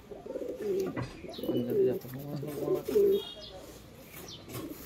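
Pigeons coo in a loft, a series of low, throaty rolling coos repeating close by over faint background noise, with soft chirps high above.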